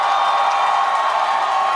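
A large crowd at a presidential campaign rally in Pohang, South Korea, cheers and applauds in a dense, continuous roar that stays steady and loud throughout.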